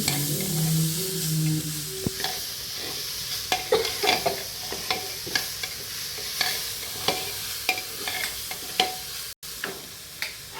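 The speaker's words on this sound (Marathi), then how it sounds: "चांगलं हलवून घेऊ." Misal frying in a pan and being stirred: steady sizzle with repeated spoon scrapes and clicks against the pan, moderately loud and close, no voices.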